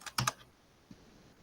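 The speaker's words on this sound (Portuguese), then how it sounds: "Acho que eu tenho que digitar aqui." A few quick, faint keystrokes on a computer keyboard, a tight cluster of clicks followed by one soft tap, close up in a quiet room.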